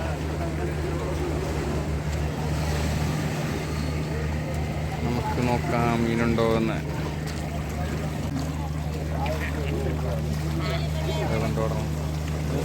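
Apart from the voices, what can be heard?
fishing boat arriving at Vizhinjam harbour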